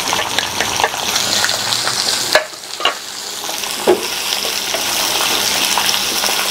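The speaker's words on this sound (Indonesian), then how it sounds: "Sekarang kita tumis kepala ayamnya." Chicken heads are sautéed with garlic, orange bird's eye chilies, large green and curly red chilies, ginger and bay leaves. A loud, dense sizzle runs throughout, with a few clattering stirs and a brief dip.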